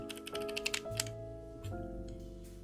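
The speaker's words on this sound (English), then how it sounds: "So iris feels nice and clean, still very clicky." Leica R lens aperture ring turned through its detents, giving a quick run of small, crisp, close mechanical clicks over a quiet room background, with no talking.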